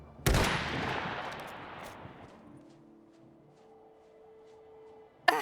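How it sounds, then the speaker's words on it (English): Single loud rifle gunshot in the video game Iron Harvest, a sharp crack followed by a rolling echo that fades over a couple of seconds, with a faint tone lingering and another short bang at the end. "that was a terrible shot. I think something's wrong with this rifle"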